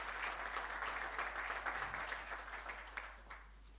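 An audience at a national workplace wellness policy launch event applauds with a dense patter of clapping that holds steady, then thins out and fades toward the end.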